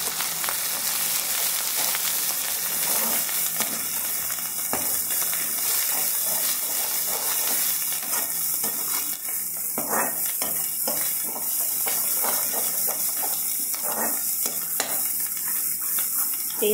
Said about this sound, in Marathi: मसाला छान परतून घ्यायचा आहे.